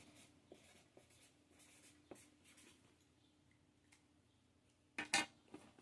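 Pen writing on a shipping package, faint scratchy strokes in short bursts, followed near the end by a louder brief rustle and clatter close by.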